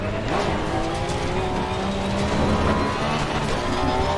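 A race car in Assetto Corsa Competizione brakes too late into a corner, its engine roaring continuously with a brief tire squeal, close and loud with no talking.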